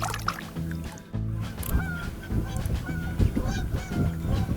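Geese honk repeatedly near Kentucky Lake, a busy overlapping chorus of loud calls heard close by across several seconds, with faint water or boat sounds underneath.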